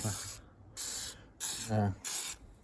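ACF50 corrosion inhibitor is sprayed through a straw nozzle onto a Royal Enfield Meteor 350 motorcycle in several close, hissing bursts separated by brief pauses.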